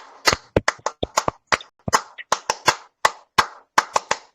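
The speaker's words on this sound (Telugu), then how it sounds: "Please all of you loudly clap." A small audience at a meeting clapping loudly in uneven, scattered bursts of sharp hand claps, close and distinct, with short gaps between them.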